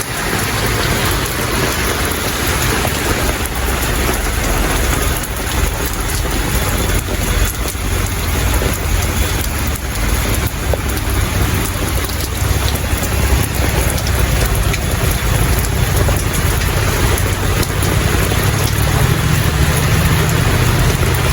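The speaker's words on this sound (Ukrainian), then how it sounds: "Справжня літня гроза нарешті дочекались." A heavy summer rain pours down in a dense, unbroken roar, loud and close, with low rumbles of thunder beneath it and no voices.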